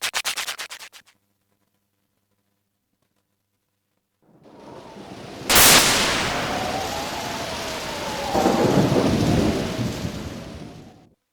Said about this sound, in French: On dirait qu'il va y avoir de l'orage cette nuit.